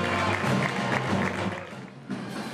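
Spectators at a Moros i Cristians parade in Castelló clap steadily as the procession ends, producing a continuous, fairly close wash of applause with crowd murmur.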